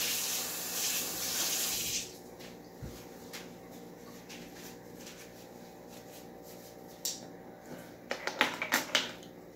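Running tap water rinses a measuring spoon at a kitchen sink, a steady loud spray for the first two seconds, then quieter clinks and handling noises with a few sharper clatters near the end.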